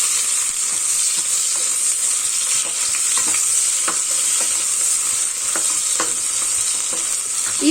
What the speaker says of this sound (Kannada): ಈರುಳ್ಳಿಯನ್ನು ಚೆನ್ನಾಗಿ ಫ್ರೈ ಮಾಡ್ಕೋಬೇಕಾಗುತ್ತೆ ಮರೂನ್ ಕಲರ್ ಬರೋವರೆಗೂ ಫ್ರೈ ಮಾಡ್ಕೋಬೇಕಾಗುತ್ತೆ